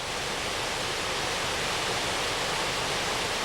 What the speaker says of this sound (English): The Welsh name for these falls is Rhaeadr y Wennol. It means Swallow Falls.